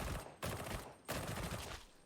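Rapid automatic gunfire from the video game Warhammer 40,000: Darktide rattles in dense, loud bursts, with two brief gaps between sustained streams of shots and no voices over it.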